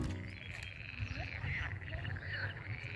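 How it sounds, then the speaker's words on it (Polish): Frogs croak in a dense, pulsing chorus of repeated rattling calls, loud and continuous, outdoors in a park. "Jak dla mnie to żaby."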